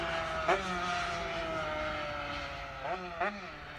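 A Honda 125cc two-stroke motorcycle engine on a test run drones with a sustained buzzing tone that slowly sinks in pitch, broken by a few brief sharp throttle blips.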